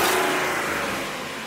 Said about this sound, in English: that's where you need to fix that damn exhaust leak